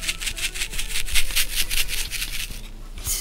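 Rapid rhythmic rustling and swishing of shaker material inside a snow globe shaker card, like fine granules sliding back and forth, shaken in quick bursts.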